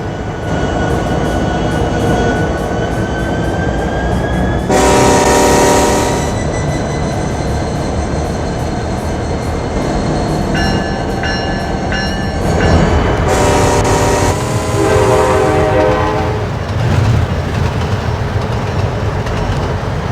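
Loud train running in the Trainz railroad video game, with a continuous rumble throughout and several long horn blasts sounding in bursts over the rolling noise, with no talk.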